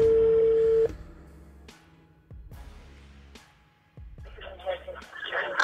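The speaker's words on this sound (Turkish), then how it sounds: "Hozir ushbu ayolning o'ziga qo'ng'iroq qilamiz." A telephone is dialed to place a call, giving a steady tone followed by a few separate short clicks and beeps with quiet gaps between them, then a louder burst of line noise near the end.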